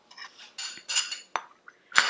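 Jaggery, nutmeg, cardamom and coconut being stirred in an Instant Pot on saute mode, with several short scraping and clinking strokes of a utensil against the metal pot, close and irregular.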